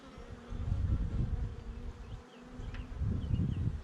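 A swarm of honey bees makes a dense, low buzzing hum that swells and dips, with a brief lull in the middle before rising again, close by and without speech.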